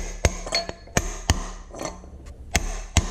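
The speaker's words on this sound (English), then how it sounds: "I'm just going to use this 2-inch socket, tap it down, going around the edges." Sharp metallic taps as a 2-inch socket drives a part down into the front bolster of an IHC Farmall Super MTA tractor, about seven distinct knocks at an irregular pace, close and clear.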